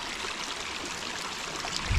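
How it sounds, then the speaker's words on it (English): Rushing water at a secret waterfall, a steady close wash of churning flow filling the whole span at even loudness, with a faint low thump at the very end. "there's going to be too much noise from the water"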